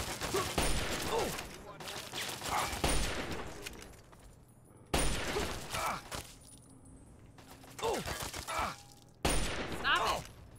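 Gunfire from the Fallout 3 video game, several loud sharp bursts of shots in separate volleys, heard with a voice speaking in between.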